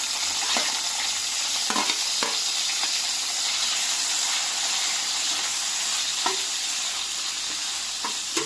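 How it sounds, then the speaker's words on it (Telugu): Loud, dense sizzle of chopped onions and cumin seeds frying in hot oil, a constant close hiss with a few brief stirring knocks scattered through it. "ఉల్లిపాయలు వేసుకొని దోరగా వేయించుకోండి."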